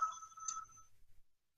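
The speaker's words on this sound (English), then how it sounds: "pardon the phone ringing" A telephone rings faintly in an office, a short electronic tone that sounds once and trails off, followed by near silence.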